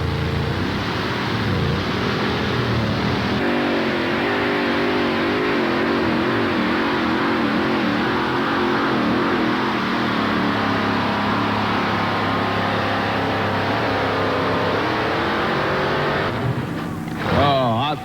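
A vintage truck or tractor pulling machine revs hard down the pull track at a major truck and tractor pull, its engine roaring loud and sustained with shifting pitch while an announcer talks over it.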